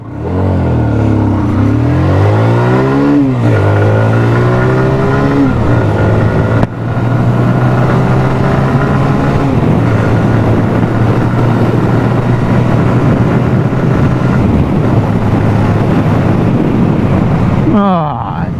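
A TVS Apache RTR 160 2V Race Edition motorcycle in sport mode accelerates hard through several gears, its engine note climbing in rising sweeps with brief dips at each shift, loud and close over heavy wind rush.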